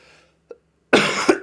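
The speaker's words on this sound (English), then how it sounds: "Just a coughing mess right now." One short, harsh cough bursts out up close after a brief quiet moment and a small throat sound.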